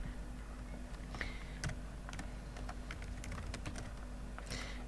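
Typing on a computer keyboard, irregular quiet clicks and taps in quick clusters, close and soft against a low background hum, with no talking.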